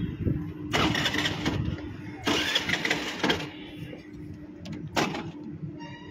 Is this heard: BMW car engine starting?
yes